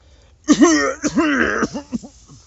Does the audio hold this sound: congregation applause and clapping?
no